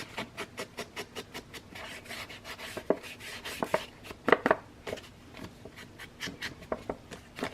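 An ink tool is rubbed along a paper edge in quick, regular dabbing strokes, a soft rhythmic scratching at close range with a few sharper taps midway, quiet and alone.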